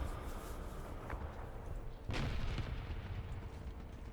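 A heavy tank cannon blast in the video game War Thunder booms out about halfway through, followed by a rumbling tail, with a smaller thud earlier over steady battle noise.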